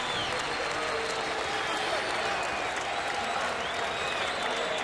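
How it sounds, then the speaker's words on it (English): A boxing arena crowd applauds and cheers after the Antonio Margarito vs Joshua Clottey fight, a continuous roar of clapping heard at a distance beneath a commentator's voice. "the crowd showing its appreciation"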